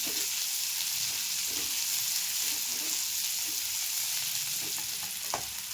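Cabbage sautéing in a pan for a Marathi rasam cabbage dish, a steady close broadband sizzle with soft scraping stir sounds now and then, no voices.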